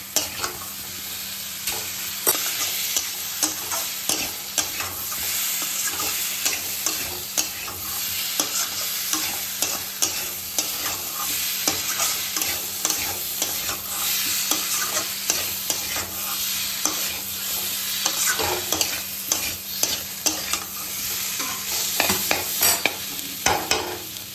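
Elephant foot yam and prawns are stir-fried in a pan, making a steady close sizzle that fills the whole stretch, with constant rhythmic scraping and tossing strokes of the spatula and no voices.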